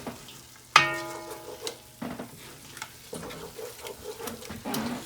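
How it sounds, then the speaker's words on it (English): A wooden spoon stirs a pot of Mardi Gras cooking. It opens with a sharp clunk that rings briefly, then continues with soft scraping and sizzling and a few more knocks of the spoon against the pot. "But it's important that we keep stirring. Use a good wooden spoon here."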